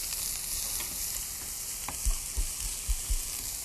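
Sliced burdock root and salted onion stir-frying in a pan, a soft continuous sizzle with a few dull scraping stirs near the end.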